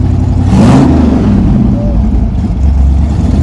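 A 700HP blown Hemi engine in a 1951 Henry J drag car with wheelie bars revs hard and loud, a deep rumbling roar that swells briefly and then holds a steady, heavy idle throughout.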